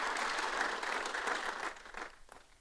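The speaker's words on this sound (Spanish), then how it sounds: "un aplauso para el doctor Mac" An audience applauds a speaker at a talk, a sustained burst of close, dense clapping that tapers off near the end.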